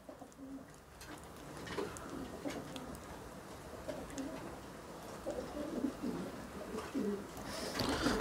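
Pigeons cooing near and clearly as a flock is released in Tan-Tan, repeated soft throaty coos over a murmuring outdoor background, with faint voices at times.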